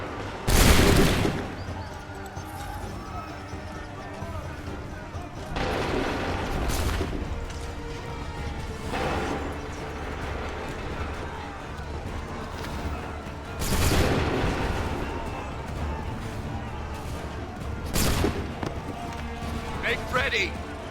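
Volleys of musket fire ring out in Assassin's Creed 3, loud broadband bursts recurring every few seconds amid shouting voices and constant battle din.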